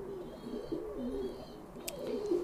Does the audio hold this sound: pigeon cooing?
yes